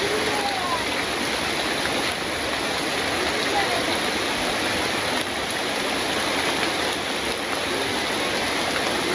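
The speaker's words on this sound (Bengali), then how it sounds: "আর এই দেখেন বৃষ্টি শুরু হয়ে গেছে।" Steady, heavy rain pours down in a village, a dense unbroken hiss of falling water filling the whole stretch at an even, fairly loud level.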